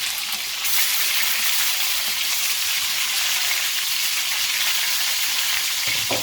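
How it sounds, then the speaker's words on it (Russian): Steady, loud sizzling and bubbling from a pan of paella boiling hard, a continuous crackling hiss with no voices. "Кипит мощно."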